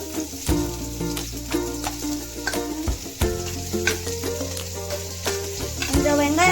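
Onions hit hot oil in a pan and fry with a dense, crackling sizzle, punctuated by sharp pops and stirring scrapes, loud and close throughout.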